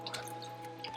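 A dirty aquarium filter sponge is wrung out over a bucket, giving a soft spattering of water drips and light squishing, faint and close, over a low background hum.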